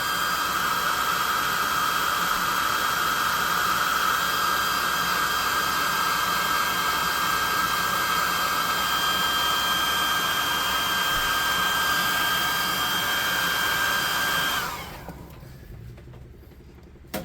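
A hair dryer blows steadily and loudly on a freshly painted custom monster model for a tabletop role-playing game, a continuous whooshing roar with a high whine that cuts off near the end.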